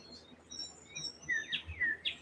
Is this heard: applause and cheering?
no